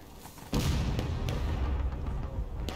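A cannon fires in the War of Rights video game, one sudden heavy boom followed by a rumbling, sustained tail with faint cracks, no voices present.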